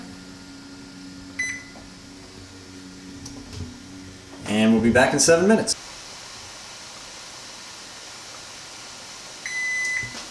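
A microwave oven hums steadily with a few short electronic beeps at the start and end while noodles are prepared, and a person speaks briefly partway through.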